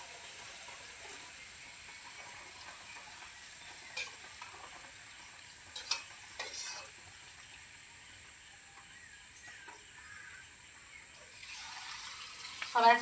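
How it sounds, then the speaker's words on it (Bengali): Luchi puffed flatbread deep-frying in hot oil, a steady, fairly faint hiss running throughout with a few small clicks, and a brief louder bubbling burst right at the end. "লুচি ভাজতে শুরু করে দিয়েছি।"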